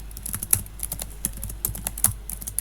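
Keys on a computer keyboard are struck while code is typed for a Godot game project, a close run of quick, uneven clicks and taps with no talk.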